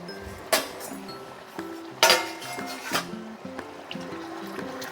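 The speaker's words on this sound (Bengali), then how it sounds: "ঢাকনাটা আবার খুলে নেব।" Metal lid lifted off a cooking pot of chicken rezala, giving two sharp clinks of metal against metal with a softer rattle after, set over a quiet tonal background hum.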